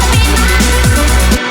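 909 or 808 drum machine hi-hats ticking in a constant fast pattern over a pulsing low synth bass in a loud breakbeat rave groove, cutting off abruptly at the end.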